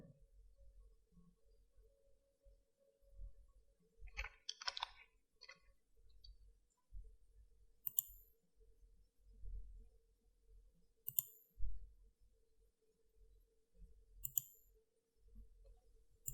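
Faint, sparse computer mouse clicks while drawing in Adobe Illustrator, some single and some doubled, spaced irregularly over a quiet background with low rumbling.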